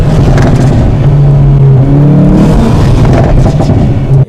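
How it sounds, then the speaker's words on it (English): A Hyundai i30N's stock exhaust roars loudly as the engine revs up and down, close and aggressive, with a deep throaty drone throughout. "It's a stock exhaust. It's amazing."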